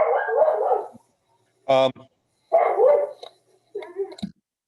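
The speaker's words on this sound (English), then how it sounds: "The dog agrees." A dog gives a single sharp bark between stretches of someone talking nearby, then a brief whimpering yip near the end; the bark is close and loud against an otherwise quiet room.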